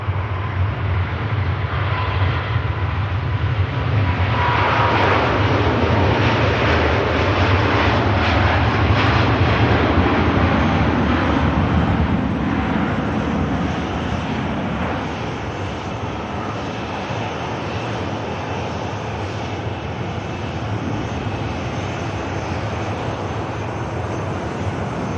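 A Cathay Pacific airliner departing Manchester Airport for Hong Kong, its engines roaring loud and sustained as it takes off, broadband and steady, then easing slightly as it climbs away.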